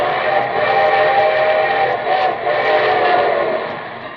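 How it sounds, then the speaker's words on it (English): A radio show's train sound effect rolls on steadily with a sustained whistle-like tone riding over a dense chugging rumble, loud and close with no voices. "And here comes our summer show train"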